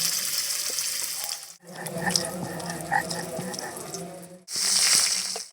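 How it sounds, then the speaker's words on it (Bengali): Fish seasoned with salt and turmeric frying in a pan: a dense, steady sizzle that cuts off briefly, then bubbling crackles and pops, ending in a louder burst of hissing. "মাছটা একটু ভাজা ভাজা করে নেব"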